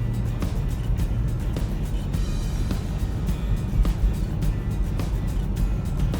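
Cars moving along a snow-covered road in Massachusetts during a cyclone snowstorm, a steady low rumble of traffic with tires hissing and vehicles passing at moderate distance.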